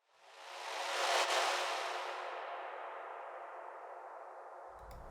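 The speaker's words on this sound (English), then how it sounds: "Next I have these horn sounds that I filtered a lot so they don't even sound like horns anymore" Heavily filtered horn tones drenched in Valhalla Supermassive reverb swell in over about a second into a soft, airy wash that hangs and slowly fades, with a faint low thump near the end.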